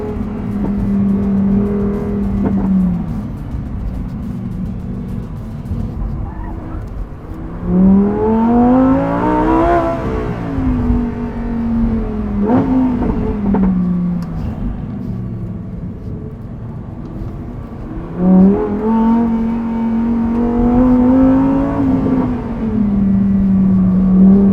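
Lamborghini Huracan Tecnica engine revving hard in Italy, with loud rising and falling bursts of exhaust roar repeated several times over a steady idle rumble, close and with no talking.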